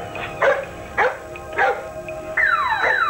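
A guard dog barks in a French TV film, four sharp barks spaced about half a second apart, then a rising whine or howl, fairly close and loud.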